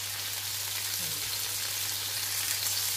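Garlic, onion and tomato frying in a pan give off a steady, even sizzle that holds from start to finish, with a faint low hum underneath.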